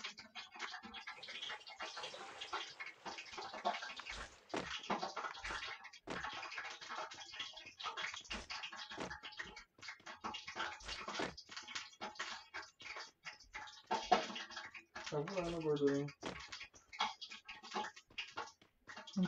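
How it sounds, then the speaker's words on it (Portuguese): Water runs steadily from a kitchen sink tap, a continuous rushing splash with scattered knocks and clinks over it throughout. "Pia, por causa da água."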